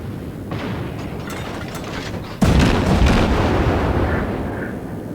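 Warship guns fire in the World of Warships video game: a steady low rumble, then a sudden loud boom halfway through that rolls into a heavy, sustained roar.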